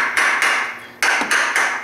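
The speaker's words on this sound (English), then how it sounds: "I'm just going to use the side of the hammer. I'm going to just tap around" Side of a hammer tapping around a rusted water pump pulley on a BMW E46 six-cylinder engine, giving five sharp metallic knocks at an uneven rhythm, close and fairly loud, with no talk.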